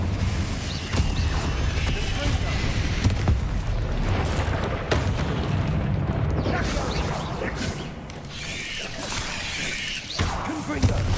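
The Confringo blasting spell in Hogwarts Legacy bursts with crackling, booming impacts amid dense, continuous game noise; the bangs are loud and close, and a voice can be heard faintly underneath.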